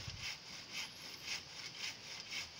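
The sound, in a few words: hand saw sawing wood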